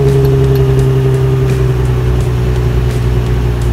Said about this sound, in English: What do you say we fire the motor up and let you guys hear the exhaust?